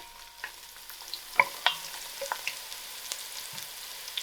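Onions fry with whole biryani spices in a pan for masala lamb biryani while a spoon stirs them, giving a low sizzle broken by several sharp scraping clicks and knocks, no voices.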